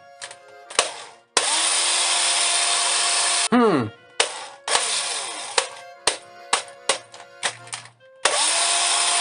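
A loud USB Type-C electric drill with faulty internals whirs in several bursts, long runs broken by short stop-start pulses, with a winding-down pitch drop partway through.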